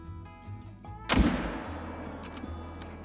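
Single rifle shot with soft point ammunition fired at a whitetail deer outdoors, a sharp loud crack followed by a long fading rumble, with quiet ambience before and after.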